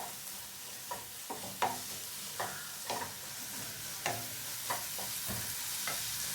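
Turmeric and masala stirred and sizzling in a pan while egg and mushroom bhurji is cooked, with a steady frying hiss under a series of sharp, irregular scrapes and taps of the spoon against the pan, close and moderately loud.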